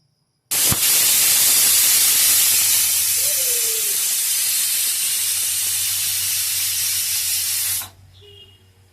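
Pressure cooker cooking rice khichuri lets out a loud, steady jet of steam hiss that bursts on suddenly and runs about seven seconds before cutting off, leaving a low background hum.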